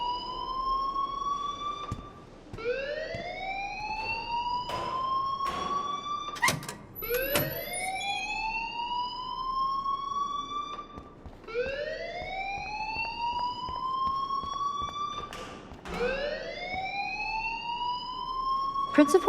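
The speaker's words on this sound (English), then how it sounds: "please turn off that alarm since that's your job" School fire alarm in the video game Life is Strange, repeating rising electronic whoops in a steady cycle, loud and continuous for the whole stretch.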